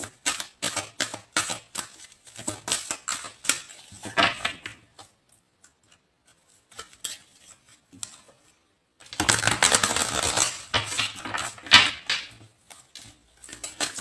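Tarot cards being shuffled by hand, with bursts of crisp riffling and tapping, then a quiet pause, then a longer, louder stretch of shuffling.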